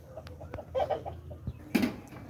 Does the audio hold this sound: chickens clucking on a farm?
yes